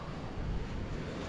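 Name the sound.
sea waves at a beach campsite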